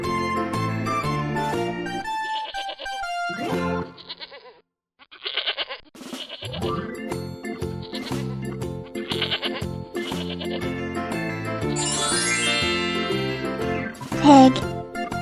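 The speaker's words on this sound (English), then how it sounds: "goat" A goat bleats with a short wavering cry near the end, set against busy, bouncy cartoon-style music with chimes that plays throughout.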